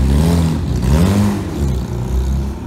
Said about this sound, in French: Petit Porsche GT3 RS avec un wrap très sympathique Rubiston Red, ce qui est une couleur de chez euh, Porsche. Je pense pas que le pot soit stable.